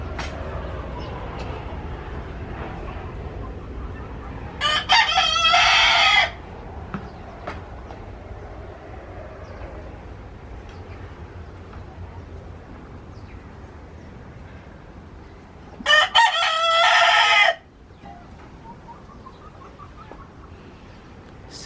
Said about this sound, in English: So my husband will give feeds to our chickens.